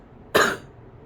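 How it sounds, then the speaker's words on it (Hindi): A single short, sharp human cough from a woman, close and loud, standing alone in near silence. "खांसी बीच बीच में बहुत परेशान कर रही है"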